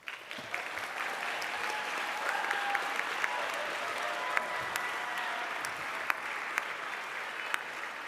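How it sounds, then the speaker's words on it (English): Graduates at a school commencement ceremony applaud family and friends, a sustained wash of clapping from a large crowd with a few sharp individual claps standing out. "I want you to turn and applaud your family and friends who have and will continue to support you."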